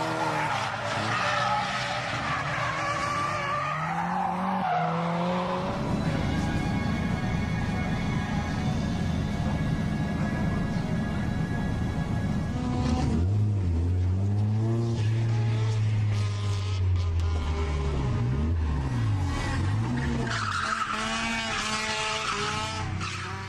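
Toyota Corolla drifting on a race track, its tires skidding and squealing in long loud sweeps over a droning, revving engine, with other cars audible on the circuit; no talking.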